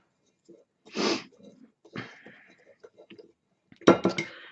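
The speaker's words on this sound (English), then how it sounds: "we're going to whisk it around and mix it in" Whisking baking soda into chocolate chip banana muffin batter in a bowl gives a few short scraping, clinking bursts, close and moderately loud, spread between quiet gaps with no talking.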